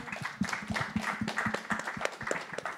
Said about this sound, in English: I think we can applaud Rishi